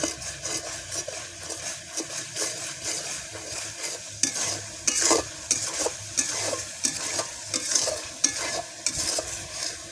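Pangas fish is stirred into spiced oil in a pan, with steady sizzling and frying under repeated scraping stir strokes, close and continuous with no talk.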